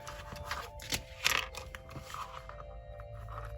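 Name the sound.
cutting off excess elastic cord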